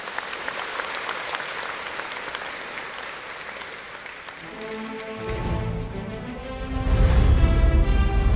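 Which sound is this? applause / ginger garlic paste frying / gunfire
applause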